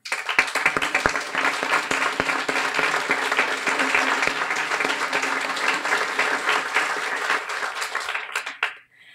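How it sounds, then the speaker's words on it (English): At a Guiding Eyes guide-dog graduation, an audience gives volunteers a long, loud round of applause, steady and full for about nine seconds before quickly dying away. "please stand so that we can give you a well-deserved round of applause"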